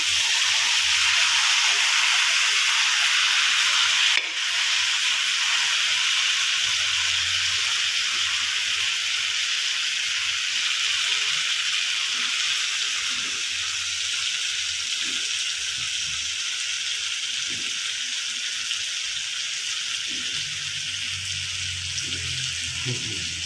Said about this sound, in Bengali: সব তেলে ফ্রাই করে নেন এটা